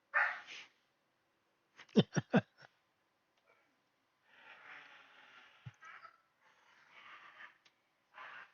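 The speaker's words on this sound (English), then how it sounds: "Those dogs are going crazy." Dogs in a modded Skyrim game bark in a quick cluster of sharp woofs, then a quieter snort and scattered whines and noise, fairly faint and spaced out with no talking.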